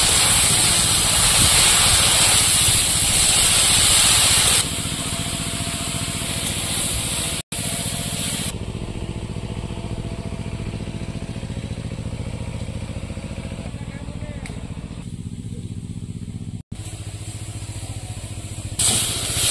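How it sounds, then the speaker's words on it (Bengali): Leafy greens stir-fry in a pan over a clay stove with a steady, loud broadband sizzle and hiss that drops in intensity partway through and continues unbroken to the end. "এইভাবে নাড়াচাড়া দিয়ে দিয়ে শাকটা ভাজা করে দেবো।"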